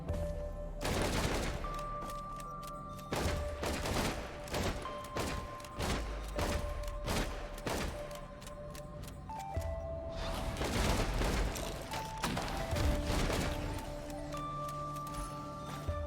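Rapid bursts of gunfire from Risk of Rain 2 rattle steadily throughout, dense repeated shots layered over electronic game tones and music, fairly loud and without any talk.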